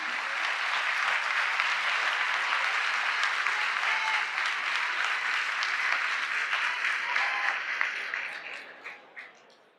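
Sustained audience applause at a Brazilian government council ceremony, offered as a tribute to a person, steady and dense for most of the stretch before tapering off into scattered claps at the end.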